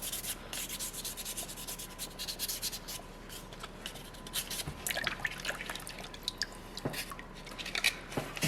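Water rinses over a soapstone seal carving, with close, quiet rubbing and trickling, and scattered drips and splashes growing busier toward the end.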